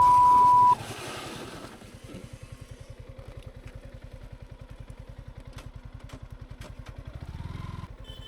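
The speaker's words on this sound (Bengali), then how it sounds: "আমি যেন ভুলেই গেছিলাম যে আমি বাইক চালাচ্ছি" A motorcycle ridden along a road, its engine thumping in a fast steady pulse close by, with a brief loud burst at the start and a slight rise in revs near the end, no talking.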